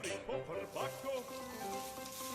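Garlic goes into a frying pan that already holds ginger and sizzles steadily at a fairly low level, with faint clinks of stirring and some tonal background sound layered over it.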